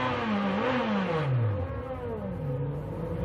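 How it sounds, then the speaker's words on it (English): A Champ Car Atlantic race car engine runs at the 2006 Edmonton round, its pitch sweeping up and down as it revs in a strong nearby drone, then settling to a steadier, lower tone. "The engine's still running, so it's not electrical"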